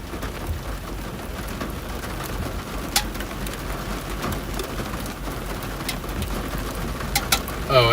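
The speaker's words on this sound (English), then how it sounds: "I keep hearing this pinging noise, and I've got cans inside there getting rained on" Rain patters steadily inside and around a storm-chasing car, with occasional sharp pings from cans being rained on rising over the wash of drops.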